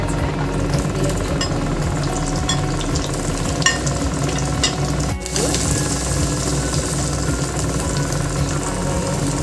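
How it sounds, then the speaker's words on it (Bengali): Eggplant slices fry in hot refined oil, a continuous crackling sizzle with a low background hum and faint clinks, steady and fairly close throughout. "বেগুনগুলো তেল গরম হয়ে গেছে, দিয়ে দিই"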